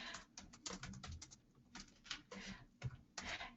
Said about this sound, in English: I'm going to type in my name here.